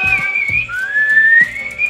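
Someone whistles a clear, sustained melodic tune at close range while cooking arepas on a budare, with light kitchen clatter and knocks underneath.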